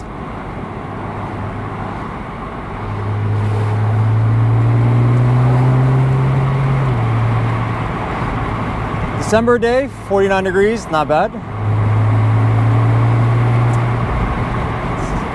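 A 2009 Porsche Carrera 4S (997.2) drives with the top down, its engine a low steady drone that swells and eases while someone talks over it on a cool December day.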